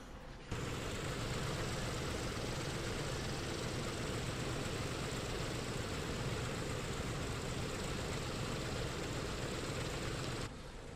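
Radial piston engines of a PMDG DC-6A cargo aircraft in a flight simulator catch and run, a loud, steady low drone that cuts in abruptly and holds before stopping suddenly.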